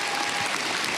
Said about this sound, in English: please give a big round of applause for Sunny Suljic